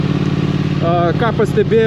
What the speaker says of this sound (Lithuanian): variklis labai smagiai dirba